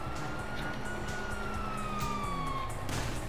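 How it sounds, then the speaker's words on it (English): Police sirens in a GTA video game, a wailing tone sliding slowly downward over a low engine-like rumble, moderately faint, followed by a brief burst of noise near the end. "you hear that? Sirens."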